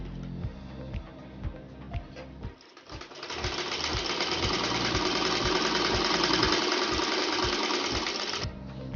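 Sewing machine stitching the seam of an adult's panjabi, a steady whirring run of stitches after a few separate clicks and thumps, heard close up with no talk.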